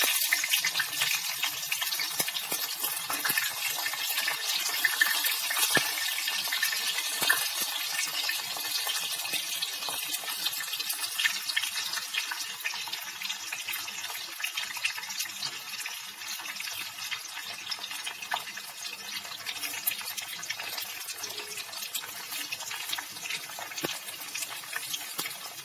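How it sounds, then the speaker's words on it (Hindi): Aubergine slices shallow frying in hot oil for a sweet and sour dish, a steady, fairly quiet crackle and sizzle that runs unbroken and alone throughout. "मैं ये बैंगन स्लिप इन कर दूंगी इसमें और इनको गोल्डन रेड होने तक, गोल्डन ब्राउन होने तक हम शैलो फ्राई करेंगे।"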